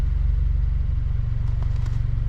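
A Subaru Forester with an Okimoto Racing muffler idles with a steady, deep pulsing exhaust burble, close and loud, alone without voices.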